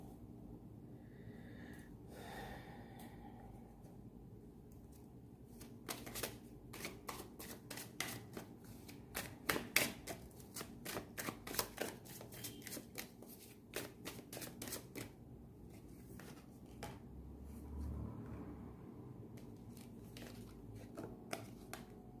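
Tarot-style cards are shuffled for a reading, a quiet, close run of rapid riffling flicks in bursts, surrounded by soft breathing and faint room noise.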